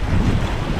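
Steady wind buffets the microphone aboard a sailboat on the Caledonian Canal, a constant low rumble with a faint wash of water beneath, continuous and close for under a second.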